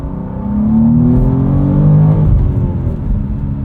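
A 2023 BMW M2 manual sports car engine revs up close by, its pitch climbing steadily as it accelerates with a loud, throaty drone.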